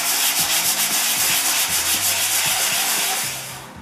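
Steady rhythmic sanding of plasterboard joints, a loud close-up rasping rub repeated in quick strokes, fading out at the end.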